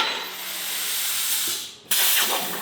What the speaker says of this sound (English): Cutting heavy plate on the CNC table smells different than lighter material does.